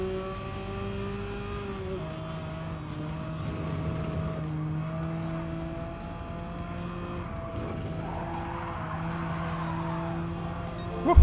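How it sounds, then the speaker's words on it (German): A race car drifting in the Gran Turismo 7 video game, with a steady, tonal engine drone holding and shifting pitch and a rising tire skid hiss toward the end, closing in a loud burst. "Das war ein schöner Drift."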